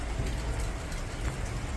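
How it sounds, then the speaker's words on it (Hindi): Heavy rain pours onto a balcony in Dubai, a dense, steady hiss with no pauses, loud and close throughout. "मेरी पूरी बालकनी में पानी पानी हो चुका है। इतनी तेज़ बारिश हो रही है,"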